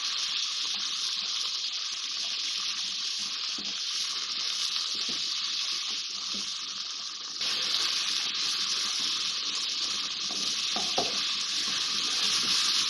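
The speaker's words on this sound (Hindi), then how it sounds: "अभी मैं तेज़ आंच पे इसको फ्राई कर रही हूँ" Chicken pieces fry over high heat with garlic in a pan for chow mein, giving a loud, dense, continuous sizzle with faint stirring scrapes that steps up slightly in intensity partway through.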